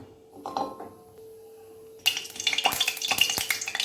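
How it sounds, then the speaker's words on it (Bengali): Bay leaf, cinnamon and cardamom dropped into hot oil for a restaurant-style chicken and potato curry: after a near-silent start, a loud, close sizzle bursts up and keeps crackling with a few metallic clinks. "আমার তেল দিয়েছি, তেল গরম হয়ে গেছে, তেজপাতা দিয়ে দিলাম, দারচিনি দিয়ে দিলাম, এলাচ দিয়ে দিলাম"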